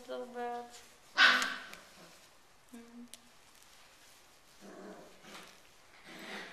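A Samoyed dog barks a few times at close range, short loud yips early on and softer barks later, with a person talking warmly to the dog in between.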